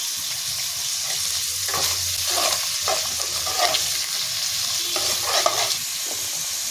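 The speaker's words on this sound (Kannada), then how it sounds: "ಎಣ್ಣೆಲಿ ಫ್ರೈ ಆಗಬೇಕು ಫಸ್ಟ್" Chicken liver frying in oil in a pan, giving a loud, steady sizzle up close with occasional stirring scrapes and crackles over the top.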